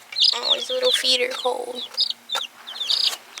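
American Bresse chicks peep in high, rapid chirps close by while a person speaks softly over them.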